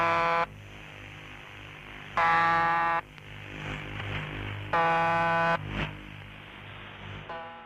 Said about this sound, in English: saw the appearance of the buzzer we've all come to know and love